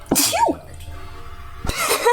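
A single sharp, close sneeze from a person, followed by a short exhaled exclamation from the same person.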